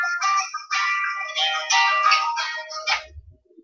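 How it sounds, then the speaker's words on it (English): A mobile phone ringing loudly with a bright, warbling melodic ringtone in repeated phrases, close and dominant, ending in a brief low thump. "My mom's phone is evil. She always has it blasted loud"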